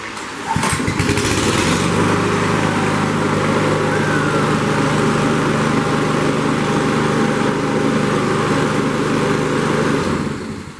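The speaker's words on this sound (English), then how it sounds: "We got a working lawnmower right there." A small lawn mower engine sputters to life and then runs at a steady, loud, droning idle for several seconds before cutting off abruptly.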